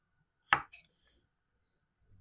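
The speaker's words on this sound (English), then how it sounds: "Now, I just like to trim off that little root piece at the bottom." A knife cuts the root end off a chunk of garlic on a cutting board, giving one sharp chop followed by a faint tap, then quiet.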